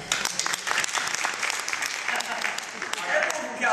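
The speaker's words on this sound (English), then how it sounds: "Clap your hands if you're not from California" A studio audience breaks into brisk, sustained applause, many hands clapping close and loud for a few seconds.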